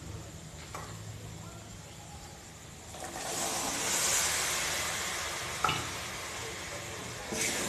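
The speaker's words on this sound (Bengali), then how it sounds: "এবার সিদ্ধ করে রাখা মটর এর সঙ্গে মিশিয়ে ভেজে নেব" Mashed potatoes, spices and boiled peas fry in a pan with a steady sizzle. The hiss swells midway as the mixture is stirred, and a spatula knocks against the pan now and then.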